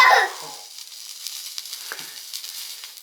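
Sparkler burning inside a tomato, a brief loud fizzing hiss at the start that quickly fades into faint crackling sputters.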